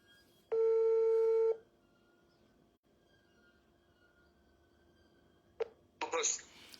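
A telephone gives a loud, steady tone for about a second during a failed call, followed by quiet line hiss and then a couple of short, sharp clicks and bursts near the end.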